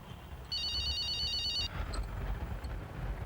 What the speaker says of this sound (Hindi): फोन देखिए बजना शुरू हो गया।